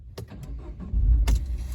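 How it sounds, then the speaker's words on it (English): A Peugeot 208 1.6 THP GTI starting up: a few clicks and key sounds, then the engine cranks and catches into a low, steady idle nearby. "just show you the engine starts nice and smoothly"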